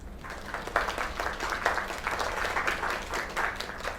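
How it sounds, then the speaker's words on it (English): Applause for a young singer at a talent contest in a game, a steady crowd of clapping with a few sharper claps standing out, continuous from start to finish. "Another round of applause."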